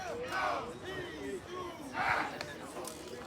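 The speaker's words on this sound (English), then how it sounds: "Riverdale dugout still making some noise. They're chanting and cheering despite being down late." High school baseball team in the dugout, Riverdale at South Lafourche, chanting and cheering late in the game, rising and falling group shouts at moderate distance, with a couple of stronger swells.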